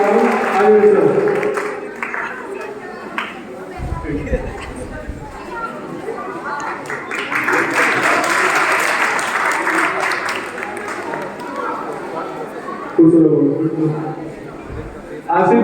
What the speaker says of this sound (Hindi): ताली बजा के स्वागत किया जाए